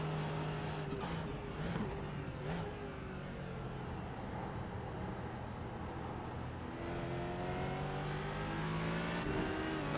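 A Ford GT2 prototype-GT car in iRacing laps Oulton Park with a steady engine drone, while a rival car's rising whine sweeps past, fairly faint and even throughout.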